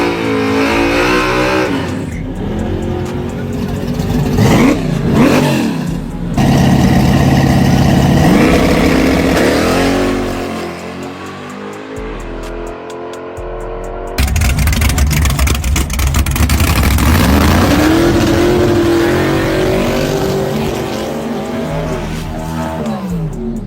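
The small-block engine of a 1967 Chevy Camaro, built for racing, revving repeatedly and loudly with a rough, uneven idle. Sharp throttle blips rise and fall in pitch, and the sound is captured close up.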